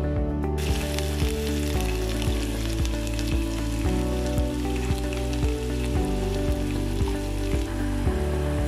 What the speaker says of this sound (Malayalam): ഇനി നമുക്ക് തേങ്ങ കൊത്തിട്ട് ഫ്രൈ ചെയ്തെടുക്കാം.